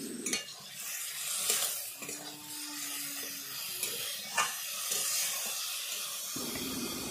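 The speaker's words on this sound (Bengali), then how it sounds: "দেখো আমার ভালোভাবে মশলার সাথে সবজিগুলো কষানো হয়ে গেছে" Potato, pointed gourd and soybean stirred into masala in a pan, with a steady soft sizzle and scraping spatula strokes, occasional clinks of utensil against the pot, no talking.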